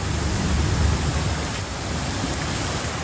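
Steady rain falls outdoors near a home kitchen while rainwater is being collected, a dense even hiss with low rumble running unbroken throughout, no voices present.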